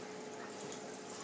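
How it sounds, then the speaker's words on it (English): Water gurgles and rushes steadily through a pool pump in a pump room, a constant bubbling hiss with a faint steady hum underneath. "when you first do that, you hear like a gargling"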